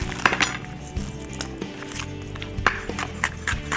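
Sharp knife chopping an onion on a board, a series of crisp, irregular taps with faint clinks, close and moderately loud.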